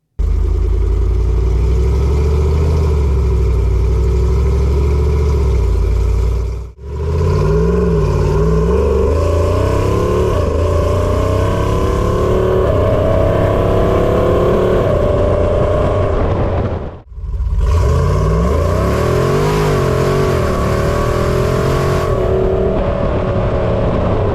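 A Hemi-swapped Jeep Wrangler fitted with an 8HP70 eight-speed automatic drives under load, its V8 engine rising steadily through each gear, with two brief gaps where the sound drops out, loud and close throughout.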